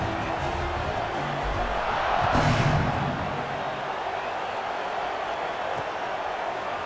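Stadium crowd cheering in EA Sports College Football 26 at an Iowa Hawkeyes versus Texas Tech Red Raiders game, a broad, distant roar sustained throughout, swelling briefly in the middle.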